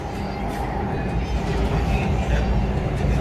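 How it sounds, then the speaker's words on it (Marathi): Inside a Pune metro train heading toward Swargate, a steady low rumble of the carriage in motion runs throughout at close range, with a faint murmur of voices beneath it. "we are in the metro and we are going back to Swargate"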